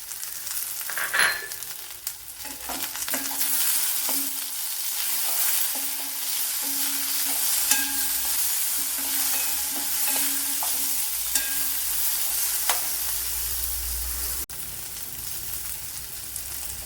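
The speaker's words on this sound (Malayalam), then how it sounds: "ഉള്ളി നല്ലപോലെ വഴണ്ട് വന്നിട്ടുണ്ട്. ഇനി ഇതിലേക്ക് തക്കാളിപ്പഴം ഇട്ട് കൊടുക്കാം." Onions sautéing in a pan as chopped tomato goes in, a continuous close sizzle with scattered spoon scrapes and clinks over a low steady hiss, no talking.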